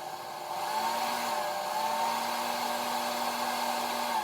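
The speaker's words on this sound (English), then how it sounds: "I'll just real quick get out the hair dryer, maybe accelerate things a little bit." A hair dryer blows steadily over colored rocks on a model train layout, a smooth continuous whir at moderate level that starts up and holds evenly throughout.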